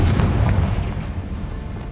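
A Confringo fire spell detonates in Hogwarts Legacy, a loud, deep booming blast that rolls and rumbles for a couple of seconds before thinning out, heard alone.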